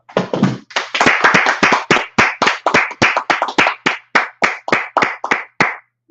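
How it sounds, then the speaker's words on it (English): A group claps hands in a fast, steady rhythm of about twenty sharp, loud claps, some landing in quick pairs, with no talking over them. "Clap it up."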